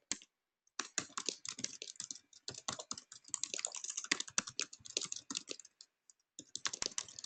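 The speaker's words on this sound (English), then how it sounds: "So I'm typing in my message right now." Rapid, irregular keystrokes on a computer keyboard as a message is typed, close and crisp, with a brief pause near the start and another near the end, no voices.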